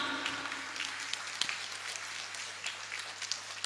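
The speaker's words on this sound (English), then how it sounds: "Big clap for Nishant." Applause at a school function, a diffuse, moderately distant patter of many hands spread through a hall, steady and soft with a few sharper claps standing out.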